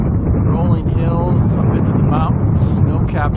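Strong wind buffets the microphone in a constant low roar at Chiricahua National Monument in southern Arizona, with a few faint whistling tones riding over the rumble.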